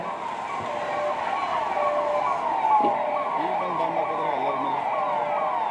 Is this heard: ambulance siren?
yes